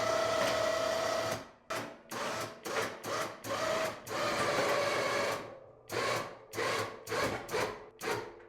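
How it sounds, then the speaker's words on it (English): A plow winch motor pulls in its cable in a string of short whirring bursts, each a second or less with brief pauses between, close by and fairly quiet. "I'm gonna give it some tension as I winch it up."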